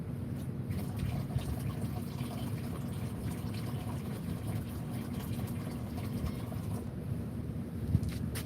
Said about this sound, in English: let me pour some water in